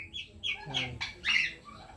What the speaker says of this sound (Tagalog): kukunin itong mga sisiw natin na to